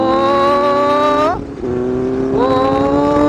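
A Benelli 600i four-cylinder superbike screams close by as it accelerates hard, with a high rising engine whine that drops away sharply at a gear shift and then climbs again, loud and continuous.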